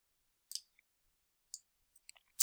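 Computer mouse clicking as someone works on a data table in StatCrunch, a few faint, sharp clicks at uneven spacing in a quiet room, with no talking.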